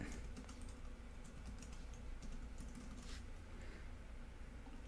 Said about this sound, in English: And then we'll just simply type update.